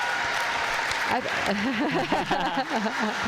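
Spectators at the 2019 Pickleball Scottish Open applauding a winning cross-court shot, a steady wash of clapping throughout, with a commentator speaking over it.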